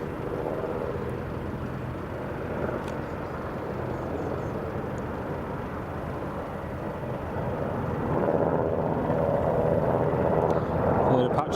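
An Apache helicopter flies past near Carlisle Airport, a broad, steady rotor and engine rumble that swells louder toward the end as the second aircraft trails behind.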